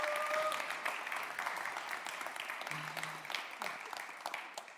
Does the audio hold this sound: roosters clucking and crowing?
no